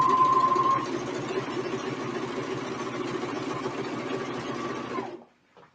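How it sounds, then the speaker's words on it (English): Overlock serger sewing a 4-thread seam with integrated safety stitch, running in a fast steady whir with a faint high tone at first, then stopping abruptly near the end. "I'm now ready to stitch. And I have the 4-thread overlock with the integrated safety seam"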